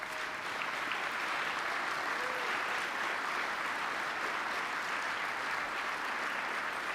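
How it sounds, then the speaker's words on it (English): A large conference keynote audience gives event volunteers a sustained round of applause, an even, continuous wash of many hands clapping at a distance, with no voices over it. "I'd like everyone to give you all a round of applause."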